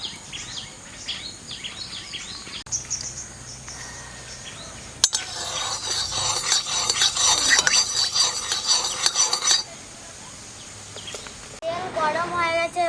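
Mustard oil heats in a wok with a moderate sizzle, broken by stirring and utensil clinks against the pan. A louder burst of frying runs through the middle, and a voice speaks at the end.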